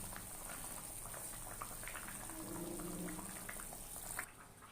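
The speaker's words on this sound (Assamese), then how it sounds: "যিহেতু তৰকাৰীখিনি উতলিছে" Curry bubbles in a pot with a quiet, steady boil and a soft, continuous gurgle of liquid close by.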